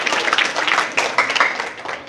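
Eighth-grade schoolchildren in Hamirpur, Uttar Pradesh, clap for their teacher on Teachers' Day, a close, lively round of many hands applauding steadily throughout.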